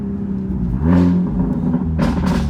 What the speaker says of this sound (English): just so you guys can hear the exhaust.